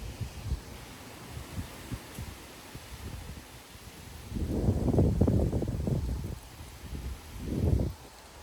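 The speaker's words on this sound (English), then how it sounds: "That was a good gust over there." Strong gust of wind around 30 mph roaring through trees, including an oak, in Frisco, Texas; low buffeting rumble against the microphone swelling into a loud sustained surge mid-clip, then another burst near the end.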